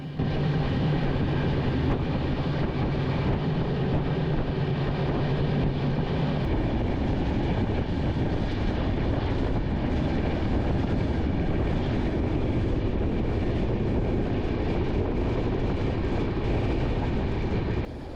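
A passenger train runs through hill country on the Visakhapatnam to Araku Valley line, giving a steady loud rumble with wheel and track noise and no talk. Its tone changes partway through.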